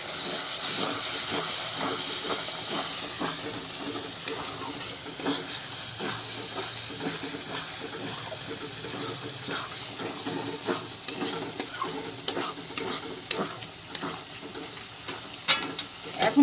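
Tomato paste frying in a pan for a masala baingan (eggplant) dish, a steady loud hiss and sizzle with intermittent scraping and stirring clicks throughout.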